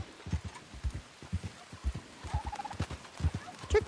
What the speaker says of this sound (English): Turkey, turkey, turkeys!